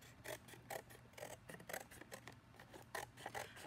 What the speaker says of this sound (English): cut it into a strip.